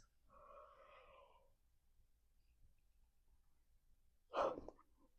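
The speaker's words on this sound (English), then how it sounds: "conveniently timed yawn, goodness gracious." A drawn-out, voiced yawn in a quiet whispered setting, breathy and close, rises and falls for about a second, then after a silence comes a short, sharper exhale or breath.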